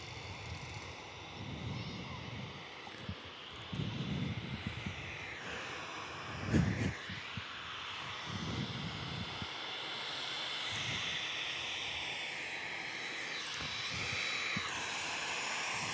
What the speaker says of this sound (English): Got the 737 taxiing up as well.